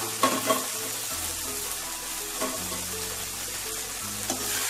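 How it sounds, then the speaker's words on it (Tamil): Cubed yam tipped into a pan of sautéed tomatoes for a mocha yam kolambu, frying with a steady sizzle and soft stirring clatter, no talk. "தக்காளி வதங்கிடுச்சு. இப்போ நம்ம கருணக்கிழங்கு போட்டுக்கிறோம்."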